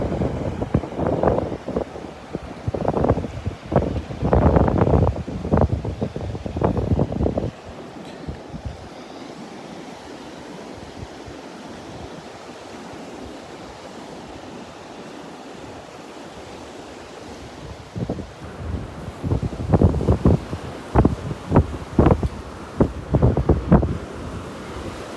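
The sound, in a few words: wind and surf at Delnor-Wiggins beach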